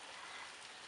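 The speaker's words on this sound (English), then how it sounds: "I'm sorry if you guys hear the rain in the background." Rain falls outside, a faint, even hiss of drops filling the background with no other sounds.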